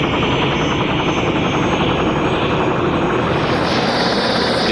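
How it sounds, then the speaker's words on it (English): A helicopter hovers just off an aircraft carrier's flight deck during landings and launches, its steady rotor chop and engine whine loud and close throughout. "Pedro is the helicopter which maintains a constant vigil just off the flight deck during every landing and launching"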